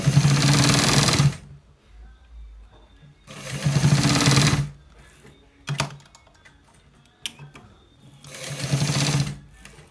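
A sewing machine stitches a short sleeve in three or four separate runs of rapid whirring, each lasting about a second, close and fairly loud, with quiet handling clicks and taps between the bursts.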